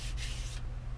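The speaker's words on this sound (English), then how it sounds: "You stack them and then you sand them so that you get a uniform" Stacked model aircraft wing ribs are sanded together by hand, giving a short, close, gritty rubbing stroke that fades out partway through, over a steady low background hum.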